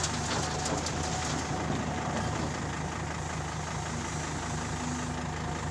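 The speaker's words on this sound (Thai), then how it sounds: "เครื่องยนต์ 4 สูบนะครับ" A Caterpillar 320 GC excavator's four-cylinder diesel engine runs continuously nearby, a steady, loud, low rumble with a broad mechanical hiss and no talking.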